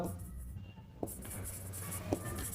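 A pen writes on paper in a classroom accounts lesson, soft scratching strokes with two sharper taps, under faint background noise.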